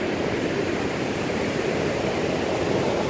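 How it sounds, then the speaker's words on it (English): Rain-swollen water rushes fast in a constant, dense roar with no breaks, loud and steady throughout and no voices. "It's impressive because of how quickly the water's moving due to the rain."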